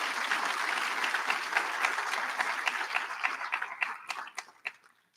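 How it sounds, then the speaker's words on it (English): Audience applause at a university school's spring commencement ceremony, a full steady round of many hands clapping that thins out and fades to scattered claps over about five seconds. "Let's give a round of applause to Dr."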